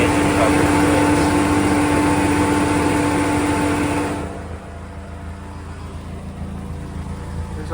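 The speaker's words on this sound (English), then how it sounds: "That's probably our best chance of getting a sound of the engine with the engine cover." A 2005 Caterham Roadster replica engine runs with its engine cover on, a loud steady drone close by that drops in level partway through.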